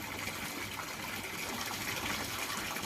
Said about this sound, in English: I think the tap's on there a little bit too hard at the moment